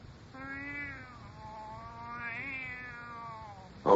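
A cat in an old horror radio drama meows in two drawn-out, wavering cries, fairly close and clear over a quiet background, ending in a brief loud thump.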